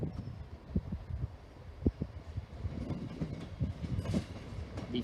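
An East Midlands Railway two-unit train, a 158 and 165 pairing, rolls into Liverpool South Parkway station with rhythmic wheel clicks and clunks over the rails, moderately distant and steady, with faint squeals near the end.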